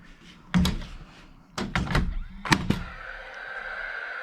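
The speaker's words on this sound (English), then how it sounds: "I love this nail gun. It's great." Several sharp impact bangs from a nail gun fired into a wooden shower frame during a bathroom renovation. The shots come in two close bursts with a pause between them, loud and near, followed by a steady hum.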